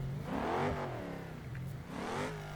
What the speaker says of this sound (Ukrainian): Повимахуємося вихлопом. У нас тут і вихлоп який стоїть. Акрапович.